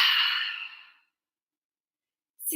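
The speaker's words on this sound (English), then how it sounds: "Full breath out." A single long, full exhale during a slow yoga flow, an airy breath out through the mouth that fades over about a second, followed by silence and a faint new breath starting.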